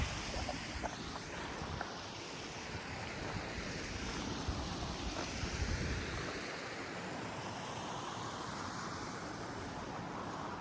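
Cold snowmelt water rushing down a mountainside below a snowbank, a constant broad roar of flowing water mixed with gusty wind noise and no voices.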